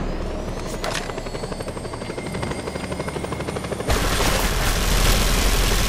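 Helicopter in the Just Cause 2 video game, a loud steady rotor chop alongside bursts of automatic gunfire, growing louder toward the end.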